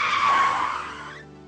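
A car passing close by on a road, a loud swelling tire-and-engine whoosh that fades away after about a second.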